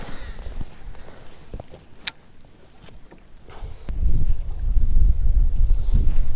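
Wind gusts across a lake around a bass-fishing boat anchored on a shallow flat, buffeting the microphone with low rumbling that swells louder partway through, mixed with small knocks and creaks aboard.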